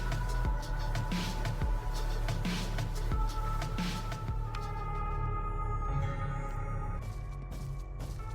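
Calm version of the music from the Roblox game DOORS, a steady electronic track with a pulsing low beat and sustained tonal layers that settle into softer held notes, no voices.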